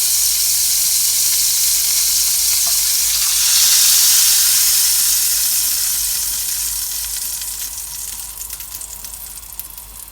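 Carrot cake pancake batter frying in butter in a pan gives a loud, continuous close sizzle and hiss that swells briefly, then eases slightly with faint crackles toward the end, no voices.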